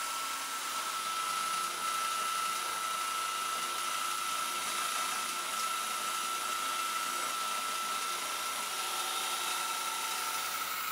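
A milling machine cuts aluminium at 2000 RPM, about 2 mm deep per pass, with a steady, unbroken grinding roar and a thin sustained whine running through it, loud and close throughout.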